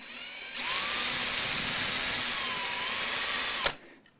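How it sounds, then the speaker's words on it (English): A small high-pitched drill whines steadily for about three seconds with a slight wavering pitch, boring into a guitar nut, then stops abruptly, close up and no voices. "the hardest thing about this is getting your drill bit to go straight"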